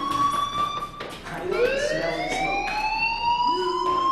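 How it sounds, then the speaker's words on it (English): A fire alarm rings in Life Is Strange, sounding as steady tones with a few sweeping rises heard clearly and continuously in an indoor setting. "do you hear that fire alarm?"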